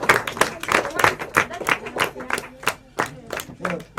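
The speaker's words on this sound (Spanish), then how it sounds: "le aplaudimos a la seño que impulsa la iniciativa" A small group claps for a teacher at a school event, irregular close hand claps in a loose rhythm with voices mixed in among them.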